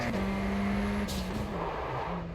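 A light race car in the iRacing sim drops through the gears under hard braking, engine note stepping down as the brakes lock up, a continuous loud in-car drone with no talk.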